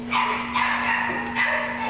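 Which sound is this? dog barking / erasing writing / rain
dog barking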